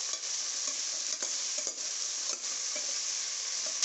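Drumstick, brinjal and potato pieces for sambar are stirred in a hot pan, giving a steady close sizzle with soft scraping strokes and no talking.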